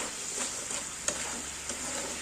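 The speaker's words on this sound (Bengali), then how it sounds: "এটা আবার আদা জিরে লঙ্কার গুঁড়ো সব ভাজা হচ্ছে" Ginger, cumin and chili powder frying in a pan for a quick fish curry, a soft steady sizzle with occasional light stirring scrapes, faint and close.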